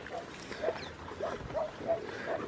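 A hunting dog out after thrushes and rabbits in the Chilean countryside gives a few short, fairly faint barks or yips in a loose rhythm against quiet outdoor background, with no clear talk.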